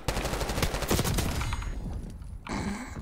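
Rapid gunfire from a gun in the Call of Duty: Black Ops 6 online game, a loud sustained burst of shots that thins out, then a fresh burst near the end, with no talking.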